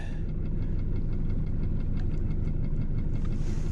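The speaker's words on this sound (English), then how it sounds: "So right now I've got the big engine started" A fishing boat's big engine runs steadily on open water in winter, a loud, close, continuous low rumble with a rapid knocking pulse and no talk over it.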